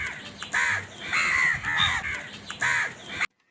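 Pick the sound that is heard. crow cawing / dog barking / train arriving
crow cawing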